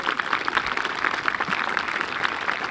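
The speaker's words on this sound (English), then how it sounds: "graduates, please give your parents a round of applause they richly deserve" Graduates at a 2021 high school graduation ceremony applaud their parents, a dense steady crowd clapping that carries from start to end, moderately loud and somewhat distant.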